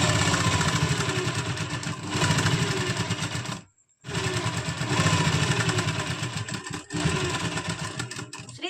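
A sewing machine stitching a boat neck kurti, a loud, close, rapid mechanical whirr that runs in long bursts with one brief full stop and a short dip.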